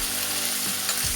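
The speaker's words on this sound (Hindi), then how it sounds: "इसको बराबर चलाते रहें ताकि तड़का हमारा जले नहीं।" Chopped tomatoes frying in a hot spiced tempering for matar methi malai, stirred with a spoon, with a steady close sizzle and brief scraping stir sounds near the end.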